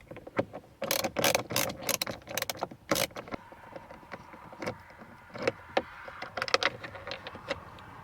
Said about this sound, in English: we're going to take our 7mm socket, remove these 2 7mm bolts